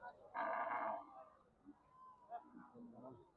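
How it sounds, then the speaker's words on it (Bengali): At a busy cattle market where cows are arriving, one cow lets out a loud, clear moo lasting about half a second. Quieter crowd murmur and distant lowing follow it. "সুপ্রিয় দর্শক, গরু কিন্তু এখনো হাটে ঢুকতেছে"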